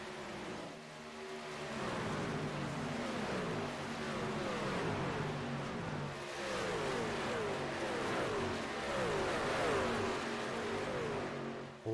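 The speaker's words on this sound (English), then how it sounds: "A lot of great racing action here from Las Vegas Motor Speedway." Stock-style race cars circle Las Vegas Motor Speedway, a steady pack of engines droning and shifting pitch as they sweep past, heard from some distance with no talk over them.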